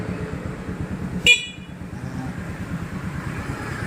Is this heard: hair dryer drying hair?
no